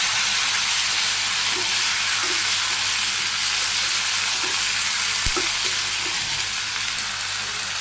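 Vegetables with papaya being added to hot oil spiced with cumin, fenugreek and ginger: a loud, continuous, hissing sizzle that holds steady throughout, with faint stirring knocks and one sharp click.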